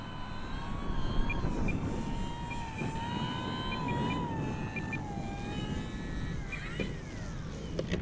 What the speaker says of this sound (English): The model for us is just flying today, and this is a STOL capable aircraft.